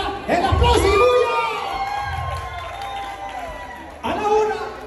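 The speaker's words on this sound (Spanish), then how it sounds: "¡el aplauso y bulla!" A crowd of wedding guests bursts into cheering and shouting. The loud surge of whoops and voices eases for a few seconds, then swells again near the end.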